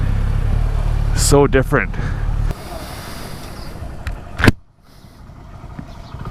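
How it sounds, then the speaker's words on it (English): Traffic around a gas station in India: engines and passing vehicles rumble under steady wind noise, with a loud vehicle sweeping close by midway while someone talks over it. "So this is a gas station in India"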